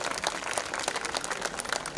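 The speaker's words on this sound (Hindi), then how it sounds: "ताली तो बजा दो भाई" Audience clapping at a Hindi kavi sammelan poetry gathering, a continuous patter of many hands spread evenly across the whole stretch, fairly soft and unbroken.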